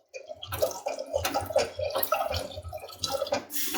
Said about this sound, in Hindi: तो पानी डाल दूंगी।